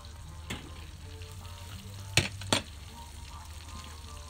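A porterhouse steak sizzles in a heavy cast iron pan while being basted with butter, rosemary and garlic: a steady close hiss with a few sharp spoon clinks and splashes, no talking.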